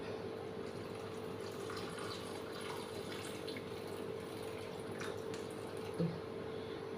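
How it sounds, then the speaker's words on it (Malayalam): Tamarind water poured into a traditional old-style fish curry gives a steady, continuous watery trickle at close range for several seconds, with no voices. "പുളി വെള്ളം ഒഴിച്ച് കൊടുക്കാം"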